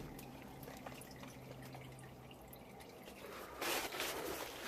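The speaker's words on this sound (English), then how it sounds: "I got the oil already dripping down here." Motor oil drips from the drain of a wrecked Audi A4 during an oil change in a garage. Soft, faint drips fall in a quiet space, with a brief louder splash near the end.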